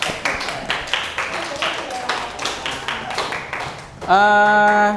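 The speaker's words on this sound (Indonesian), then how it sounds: "Oke, tepuk tangan semua." A class claps hands together in quick, fairly even rhythmic bursts, close and moderately loud, before a sustained tonal sound cuts in at the end.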